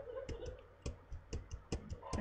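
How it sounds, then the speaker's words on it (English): Computer mouse clicks from left and right buttons during a Minecraft singleplayer session, a series of sharp, close ticks roughly every third of a second over faint background hum. "And you can probably hear my clicking in the background."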